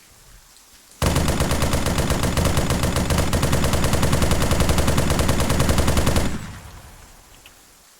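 A sustained automatic-weapon burst fires in the video game Arma 3. It is loud and close, with rapid, continuous shots lasting about five seconds, then cuts off into a fading echo.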